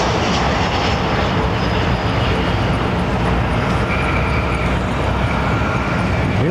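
A jet airliner landing at London Heathrow Airport, a loud, steady broadband engine roar that holds throughout, with a faint rising whine joining partway through.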